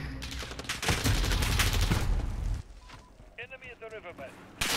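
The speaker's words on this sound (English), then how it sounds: "Why do they have a freaking minigun?" A minigun in Call of Duty Modern Warfare fires a loud, continuous roaring stream of rapid shots for about two and a half seconds and then stops, and a voice speaks over the firing and after it.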